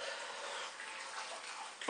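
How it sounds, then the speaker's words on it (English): Boiling water from a kettle pours into a simmering hot and spicy chicken soup, a quiet, steady hiss-like stream lasting under two seconds. "200 ml of boiling water out of the kettle"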